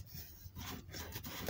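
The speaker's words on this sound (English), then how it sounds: "I will have to crease the double-sided tape I just applied" Double-sided tape on a paper tissue box being creased by hand, a soft continuous rubbing and scraping, quiet and close, with no talking.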